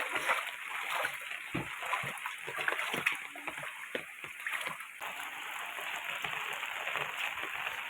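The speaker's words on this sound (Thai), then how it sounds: "ฝนก็ยังตกบ่หยาบ่เซาพี่น้องน้ำก็เพิ่มขึ้นเรื่อย ๆ" Heavy rain keeps falling on rising floodwater around a home in Thailand, making a constant close hiss with irregular splashes and spatters throughout.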